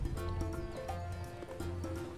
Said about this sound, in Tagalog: Kabayo oh.